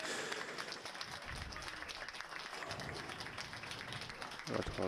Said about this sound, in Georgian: აპლოდისმენტებით აცილებენ მას.